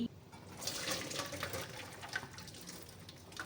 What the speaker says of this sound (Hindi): लिड हटाने के बाद जो है मैं इसको पहले छान लूँगी।